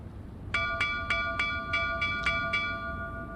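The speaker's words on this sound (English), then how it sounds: "Suddenly the ship's bell tolls from overhead." A ship's bell in the video game Overboard! tolls eight evenly spaced, clear metallic strikes, each ringing tone overlapping the next above a low rumbling background.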